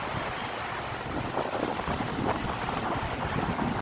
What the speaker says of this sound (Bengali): সমুদ্রের ঢেউ, জল